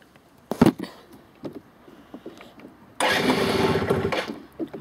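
A few clicks and rattles, then the engine of a Keeway Fact Evo 50cc scooter abruptly starts after some difficulty and keeps running with a buzzing idle.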